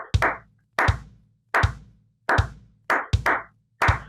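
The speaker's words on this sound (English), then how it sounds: "Once you can do that, clap it." Hand clapping a rhythm, six sharp close claps spaced roughly evenly, each with a short room echo and quiet gaps between, one quick double clap among them.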